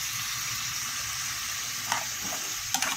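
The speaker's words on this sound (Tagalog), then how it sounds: "mikos-mikos ko na mga boss para maghalo na yung mga ingredients natin dyan" Ginisang ampalaya being stirred and mixed in a pan, a steady close sizzle of frying bitter gourd with a few soft scraping clinks of the utensil near the end, no talking.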